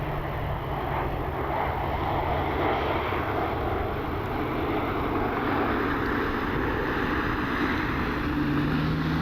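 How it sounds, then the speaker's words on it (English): An airliner inbound from Denver arrives at Cleveland Hopkins airport in the rain, a steady broad jet roar with wind noise holding at an even level throughout, no talking. "This aircraft is inbound from Denver."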